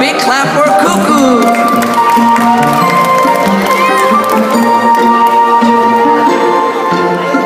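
Audience at a Christmas puppet show claps and cheers for an elf puppet, a loud burst of applause, whoops and shouts with music and voices mixed in.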